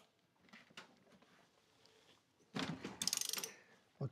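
Loosening an axle nut: a soft clicking and scraping at first, then a loud burst of rapid metallic ratcheting clicks near the end, close to the mic, with no talk.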